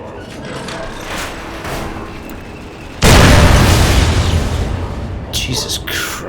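A nuke detonates in Fallout: New Vegas with a sudden, very loud, full-bodied blast that roars and then slowly fades, following a stretch of lower-level game ambience.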